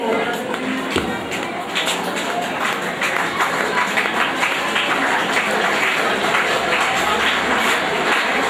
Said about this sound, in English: Have a big clap.